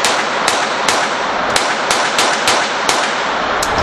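Shots from a .22 caliber Sig Sauer Mosquito pistol, around nine sharp cracks fired at an irregular steady pace over a noisy outdoor background, each a brief loud snap.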